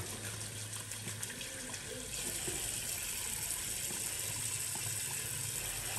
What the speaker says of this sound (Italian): un po' d'acqua calda a ammorbidire un po' questo sapone